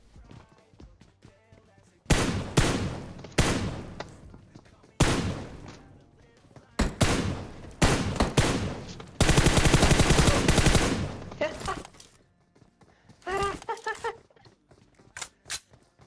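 Gunfire from the mobile battle royale game PUBG Mobile: sharp single shots and rapid automatic bursts, loud and close, separated by short quiet gaps, with someone talking at times between the shots.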